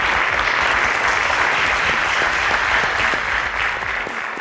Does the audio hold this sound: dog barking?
no